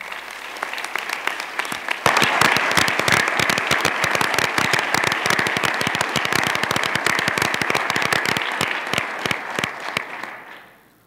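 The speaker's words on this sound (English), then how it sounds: "they deserve a round of applause as well" A bill-signing ceremony audience breaks into loud applause, with dense sharp clapping that swells after a couple of seconds, holds steady, then fades at the end.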